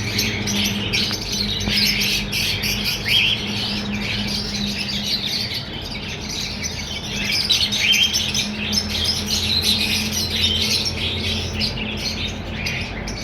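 Diamond pied doves and other caged birds at a bird market chirp and squawk continuously in a dense, busy chorus over steady background hum.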